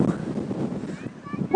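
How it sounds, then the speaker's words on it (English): Wind buffets the microphone outdoors in a steady low rumble, with a voice speaking over it. "so windy."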